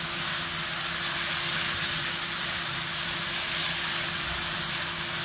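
Liver fries in a pan, a steady loud sizzle and hiss that continues evenly throughout with no talking.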